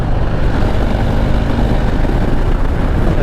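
A 2020 Harley-Davidson Heritage 114 motorcycle with a staggered shotgun-style exhaust rumbles continuously during a break-in ride, a loud, deep, steady roar mixed with rushing wind and no voices.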